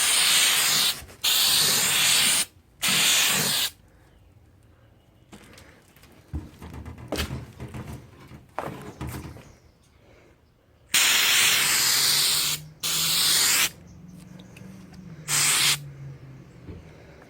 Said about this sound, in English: get a couple of light coats on so that I have something to spray the high build primer over